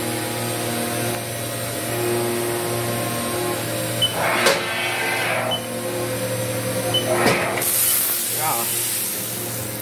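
A 2014 Haas VF-6SS four-axis CNC vertical mill runs its spindle at 7,000 RPM with coolant spraying, giving a loud, steady whine and hiss with a few brief rushing bursts.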